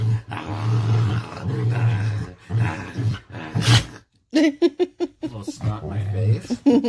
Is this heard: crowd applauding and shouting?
no